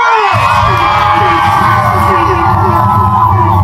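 A large crowd cheers and shouts at a lively gathering in Rongai, a loud continuous roar of voices with a sustained ringing tone running over it for the whole stretch.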